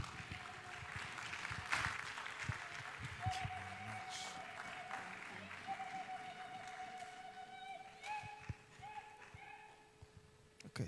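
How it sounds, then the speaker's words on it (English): An audience applauds at the opening ceremony of an East African language association conference. Scattered claps and taps are mixed with crowd noise and background tones over about eleven seconds. "shall we give her another hand of applause?"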